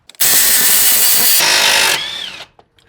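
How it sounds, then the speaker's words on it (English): A loud burst from an impact wrench spinning off a 22 mm nut on a 2003-2007 Honda Pilot CV axle, a steady hammering buzz lasting about two seconds that changes pitch partway through before winding down. "So I'm going to put this on the bolt head side and then the impact on the nut side."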